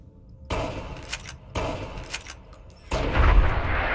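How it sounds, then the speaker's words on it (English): A lever-action rifle fires in the video game Fallout: New Vegas, three sharp, loud gunshots spaced about a second apart, each with a short ringing tail, the last followed by a burst of rattling noise. "This gun is really nice. It's a lever action dealy."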